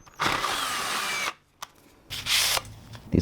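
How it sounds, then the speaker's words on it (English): A drill running in reverse reams out holes in a welded steel tube for a gasifier stove, two loud sustained whirring bursts separated by a short pause. "Run the drill bit backwards and kind of ream that out a little bit."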